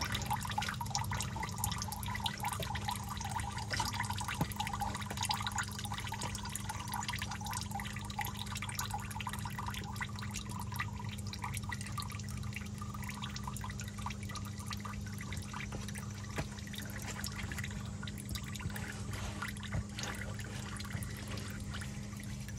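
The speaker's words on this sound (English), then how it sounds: "that'll be the last little bit that drips out of there" Used engine oil drips from a car's drain hole during an oil change, a faint, sparse patter of drips over a steady low hum that lasts throughout.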